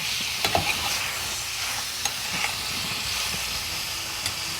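Cauliflower sautéing in a kadai gives a steady, close-up sizzle, with a few soft stirring scrapes cutting through. No one speaks.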